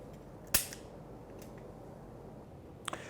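A handgun fires one sharp, loud report early on, then two quick fainter cracks near the end, shot from behind cover on the right side during a gun-handling drill; no talking.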